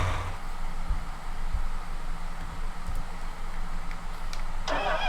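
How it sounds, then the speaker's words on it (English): A tractor engine starts up in a farming video game set during spring corn planting in Iowa, giving a steady mid-pitched idle hum with a few brief clunks and a rising mechanical rush near the end, no talking. "I'm going to hop over into the other field, the other tractor, and get that guy started"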